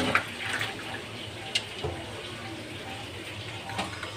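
Hot water runs and splashes while soaked dried churi fish is rinsed in a kitchen, a steady close wash with a few sharper clatters and drips throughout.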